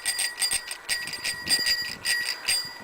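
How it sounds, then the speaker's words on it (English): A bicycle bell on a restored Schwinn rings, repeated bright metallic dings close by in a series of quick bursts. "And it's even got a bell."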